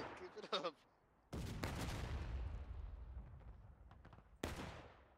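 Artillery fire in the Civil War battle game War of Rights: two heavy, sudden booms with long rumbling decays, preceded by a brief crackle of rifle shots, all fairly loud against a quiet background.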